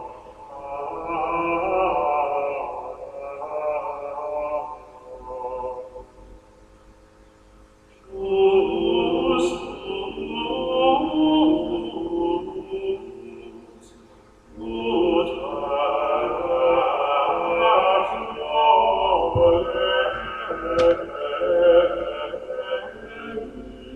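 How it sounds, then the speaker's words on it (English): Medieval two-voice organum chant sung in parallel harmony, sustained vocal lines in three phrases separated by short breaths, resonant and moderately loud. "Organum was originally improvised, and it sounds like this."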